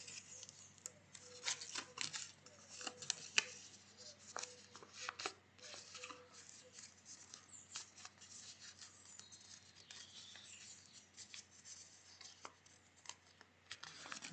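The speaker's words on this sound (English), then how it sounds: "Go round the circle, just folding each petal in turn." Paper petals folded down one after another around a circle into a closed flower shape, giving soft crinkling and scratchy rustles with small ticks, steady and close through the whole stretch, with no talking.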